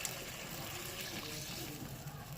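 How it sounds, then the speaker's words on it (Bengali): Water is poured into a cooking pot, heard as a faint, brief, steady splashing rush. "এবার আমি জলটা দিয়ে দেবো"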